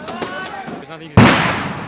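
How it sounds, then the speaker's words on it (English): A huge blast from police firing tear gas grenades at a protest, a sudden loud, close boom with a long decaying rumble, following a stretch of quieter crowd noise and scattered pops. "There's just been a huge blast over there. The police is still firing grenades."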